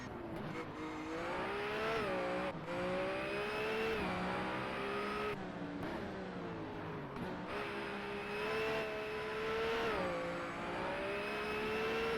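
A BMW Z4 GT race car in the Race Pro video game, its engine a loud continuous whine that climbs through the revs, drops sharply at several gear changes and climbs again, with faint tire noise underneath.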